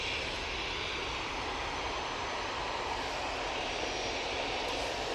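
A TUI airliner takes off from Manchester Airport, its jet engines making a dense, continuous roar that stays loud and steady throughout with no other sounds.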